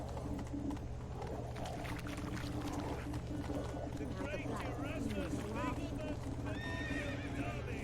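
In the Witcher 3 game world, a horse whinnies and its hooves clip-clop near a building, with birdsong in the background and people talking over the sounds.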